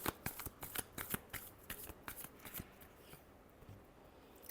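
Tarot cards being shuffled by hand in a quick run of crisp riffling snaps close to the mic, tapering into softer sliding near the end.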